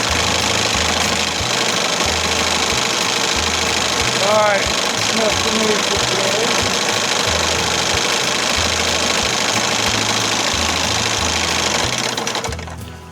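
A 1968 Evinrude Fisherman 6 hp outboard motor runs steadily at a low throttle setting, giving a continuous, chugging hum that stays loud throughout, with someone talking over it near the end.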